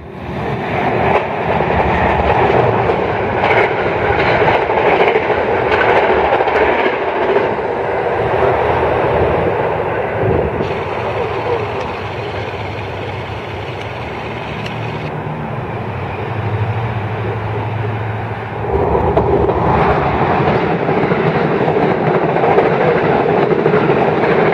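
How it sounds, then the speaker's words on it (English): NJ Transit train 2307 bound for Bay Head, hauled by PL42AC locomotive 4025, roars through Woodbridge station on the North Jersey Coast Line, a loud, steady rush of passing cars with rhythmic clickety-clack on the rails, no talk. "Approaching fast on train number 2307, heading to Bayhead, New Jersey, is a PL42AC number 4025"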